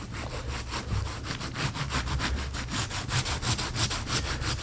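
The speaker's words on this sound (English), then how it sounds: "And I'm going to rub this right on in to place." Wool felt being rubbed into place by hand over a witch hat resist, producing a steady, close, rhythmic scratchy swishing with repeated strokes.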